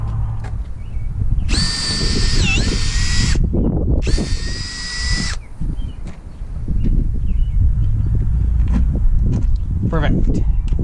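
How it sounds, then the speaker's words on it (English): A power drill whines loudly in two bursts, the first a bit longer, drilling holes in a fiberglass Sea-Doo Sportster boat, amid low rumbling background noise. "Love drilling holes in your boat."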